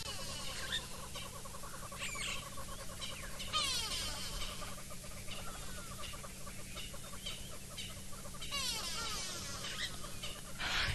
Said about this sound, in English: you hear all the racket of all the birds trying to mob this Faroese eagle owl out of here